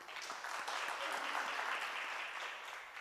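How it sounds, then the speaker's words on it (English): A small audience at a yoga class gives a short round of light clapping, a soft, fairly distant patter that lasts a few seconds with no talk over it. "Claps to the 3 people."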